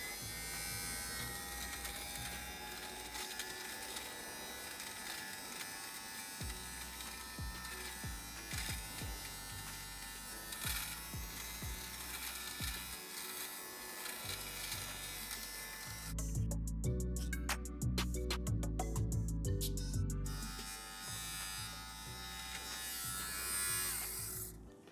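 An electric shaver runs continuously over a worn Alcantara seat in a Peugeot 207 GTI, a steady close buzz whose pitch and loudness shift as the head presses and moves across the fabric.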